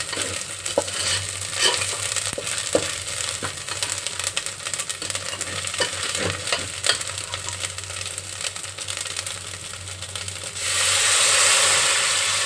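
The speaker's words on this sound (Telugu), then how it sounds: "ఎసరు వేసిన తర్వాత అంతా ఈ విధంగా కలపాలండి. మసాలా అంతా కలవాలి." A spoon stirs bagara rice masala with water in a cooking pot, giving a steady wet scraping and sizzling hiss with faint clinks, then a brief louder rush of hiss near the end.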